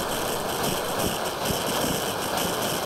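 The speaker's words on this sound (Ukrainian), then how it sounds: "Часом він робить такі несподівані впорскування рідкого газу, якщо він не встигає випаровуватись в трубці" A gas burner runs loud and close with a rough, roaring hiss and sputtering bursts as liquid gas is injected instead of vaporising in the tube, with no talk.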